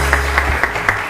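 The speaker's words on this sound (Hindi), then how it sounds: "बहुत सारी तालियां इनके लिए" Studio audience applause on a TV morning show, a brief burst of many clapping hands with a few sharper claps standing out, close and loud, with no talking.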